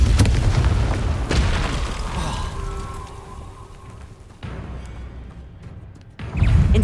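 Depulso force spell impacts in Hogwarts Legacy, a run of dull booming bursts amid other spell effects, with a sharp, loud blast near the end.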